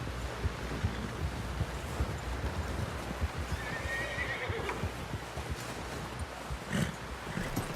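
Hooves clop steadily in an uneven rhythm, and a horse gives a short whinny midway, surrounded by rustling and soft background noise, from the video game Red Dead Redemption 2.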